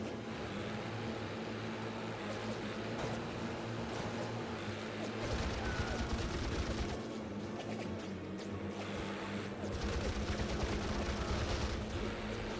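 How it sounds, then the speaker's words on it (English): Fighter aircraft make strafing runs in a video game: a steady engine drone runs throughout, with dense bursts of rapid machine gun fire in two sustained stretches and no talk. "They are doing some strafing runs."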